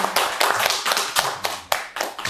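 Audience applause closing the 4th International Yulgok Studies Forum, an academic conference, a short burst of clapping with distinct, uneven hand claps rising and falling, fairly close and alone without talk.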